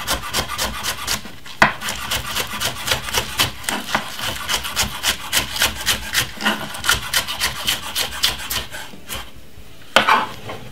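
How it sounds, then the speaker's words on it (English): A knife chops spring onions very small on a board, a fast, steady run of close, crisp cuts with brief pauses between bursts and no talking. "I'm gonna simple cut them up very small."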